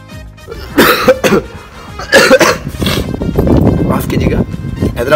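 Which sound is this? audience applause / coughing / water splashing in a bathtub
coughing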